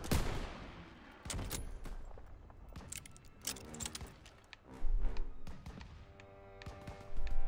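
Gunfire in the World War II shooter Call of Duty: WWII, sharp bursts and single cracks of rifle and machine-gun fire scattered irregularly through a battle din, moderately loud with quieter gaps between volleys.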